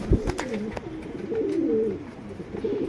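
A pair of Tamral breed pigeons coo close by, a soft rolling warble repeated a few times, with a light tap at the start.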